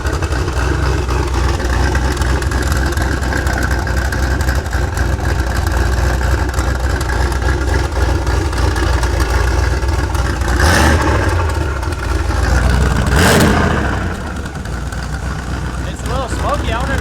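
Turbocharged 5.0 engine in a Ford Ranger running with an exhaust leak, a loud, steady, close-up rumble with two brief surging revs near the end.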